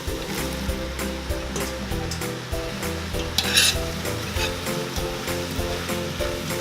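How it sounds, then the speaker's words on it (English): Potatoes go into a soup pot of sautéed leeks, giving a continuous close sizzle with stirring and scraping, plus a brief louder splash of activity midway. "Now we're gonna add our potatoes."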